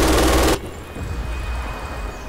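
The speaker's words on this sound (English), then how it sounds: "Can't get over the amount of rounds it's firing." A burst of MG 42 machine gun fire in Red Orchestra 2, loud and dense for about half a second, then cutting off abruptly to a low, steady background hum.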